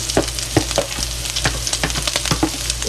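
Onions and peppers sizzle steadily on a cheesesteak griddle while a spatula scrapes and tosses them, sharp metallic clicks cutting through the continuous hiss at close range.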